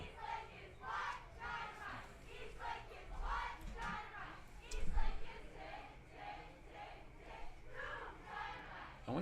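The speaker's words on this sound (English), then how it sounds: "That dynamite cheer is pretty good." Cheerleaders at a JV high school football game chanting a rhythmic group cheer, with shouted syllables in repeating bursts sounding distant and faint over crowd murmur.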